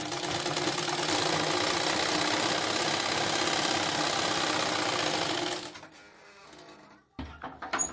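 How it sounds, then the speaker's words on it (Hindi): A sewing machine runs in a steady, loud, continuous whir while stitching a lining strip onto a blouse, then stops abruptly, leaving a few faint handling clicks and rustles. "ऐसे इसको सिलाई लगाएंगे।"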